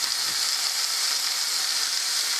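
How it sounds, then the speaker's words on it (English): Food searing in a hot pan, a steady, close sizzle and frying hiss that holds evenly throughout with no talking. "Now these are going to sear for about a minute on each side."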